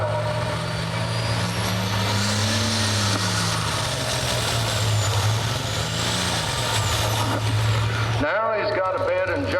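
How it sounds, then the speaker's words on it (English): A pulling tractor engine at a truck and tractor pull misfires as if from a bad injector or broken fuel line, roaring loud and steady with a wavering pitch, then cutting off abruptly near the end amid crowd noise. "Now he's got a bad injector or a broken line or something. You can hear it's a 5-cylinder now, maybe only a 4."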